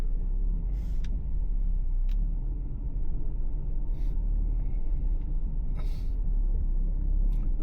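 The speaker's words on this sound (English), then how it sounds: "Let the winch do the work." An off-road vehicle is pulled by its winch through deep snow on a winter trail, with a low steady motor rumble throughout and a few brief sharp clanks and hisses, close by, with no talking.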